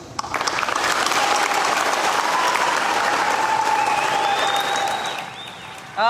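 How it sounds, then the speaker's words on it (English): A stadium crowd in Hilo, Big Island, applauds a graduating police recruit class with loud sustained clapping that holds steady, then fades near the end before a brief new burst. "big round of applause over on the Big Island at the Edith Kanakaole Stadium in Hilo"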